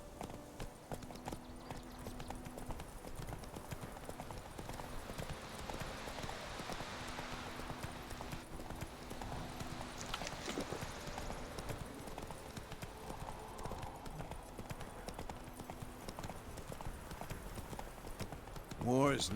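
Roach the horse's hooves clip-clop steadily at a walking pace in The Witcher 3, a continuous rhythmic patter with game music and voices talking over it throughout.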